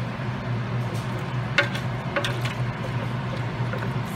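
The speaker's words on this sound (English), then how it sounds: "Sorry about the fan, but I can't turn it off." A kitchen fan that switches itself on and off drones steadily with a low hum and broad airy whoosh, while a few faint clinks of cookware sound briefly over it; no one speaks.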